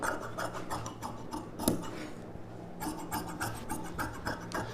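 Scissors cut through silk pattu saree blouse fabric in a run of crisp, rasping snips of uneven rhythm, close and fairly quiet, with no voices.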